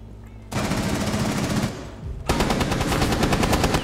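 Rapid automatic gunfire in Rainbow Six Siege, delivered in two loud, dense bursts of fast repeated shots separated by a short pause, close and dominant with no other sound competing.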